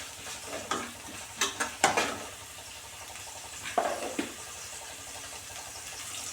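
Coriander and green chillies fry quietly in a pan, a soft steady sizzle under a few clustered scrapes and taps of a spoon stirring the mixture.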